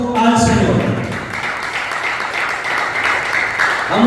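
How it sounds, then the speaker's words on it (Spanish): A church congregation breaks into loud, sustained applause for the Lord, a dense wash of clapping that continues for several seconds after the preacher's voice opens the moment. "un fuerte aplauso al Señor"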